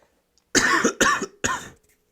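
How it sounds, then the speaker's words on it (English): Three harsh coughs in quick succession, close and loud, with no talking around them. "excuse me while I cough."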